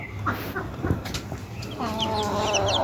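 Day-old layer chicken chicks cheep in thin, high, rapid peeps that grow clearer toward the end, over a steady background hum with some low clucking.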